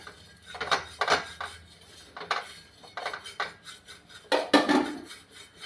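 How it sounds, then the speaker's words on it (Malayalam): A spoon stirs a pot of chicken stew with potatoes and curry leaves, making intermittent scraping and clinking strokes against the metal. The strokes come in uneven bursts and sound close, with no talking. "ഇത് നന്നായിട്ടൊന്ന് ഇളക്കി കൊടുക്കാമേ."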